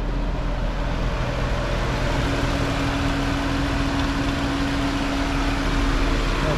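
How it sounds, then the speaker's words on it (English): A 2014 Nissan 370Z coupe with a V6 engine idling, a loud, steady, smooth low hum that holds without revving for several seconds, with no voices. "That V6 is sounding smooth as could be"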